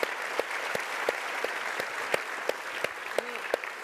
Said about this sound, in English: So we should clap for that.